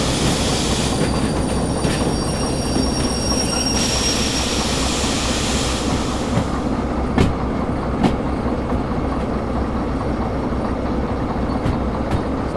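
A train engine in the Derail Valley game rolls along with a loud, constant rumble of wheels on rail, squealing metal early on and occasional sharp clacks, with no speech.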